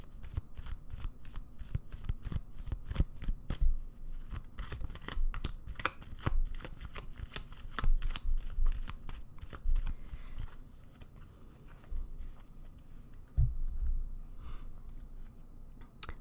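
Tarot cards being shuffled by hand, a rapid run of crisp riffling snaps and soft slides that comes in bursts and pauses, close and clear with no talking.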